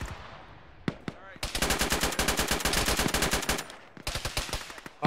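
Bursts of automatic rifle fire in the ArmA military shooter during a ShackTac squad fight, close and loud: a single shot, then a long rapid stream of rounds, a short pause and another burst, with faint voices underneath.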